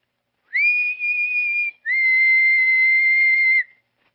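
A person leaning out of a window whistles softly in two clear sustained tones, the first held about a second and the second longer, alone against silence.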